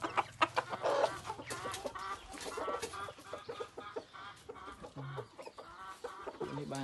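Crossbred wild fowl cluck steadily and close by, with several birds overlapping in short, busy bursts and a few longer calls rising above them.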